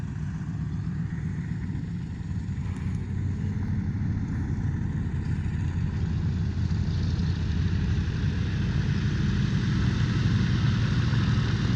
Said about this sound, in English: They gave flights on this aircraft today for the fly-in.